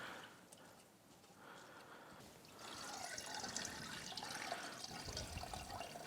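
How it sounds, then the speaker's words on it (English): Water sprays and splatters as a K&N reusable air filter is spun to force the rinse water out through it, a faint steady hiss that grows louder midway. "By spinning it like this, it's actually forcing the water out through it."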